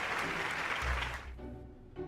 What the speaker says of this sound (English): thunderous applause erupts throughout the dimly lit theater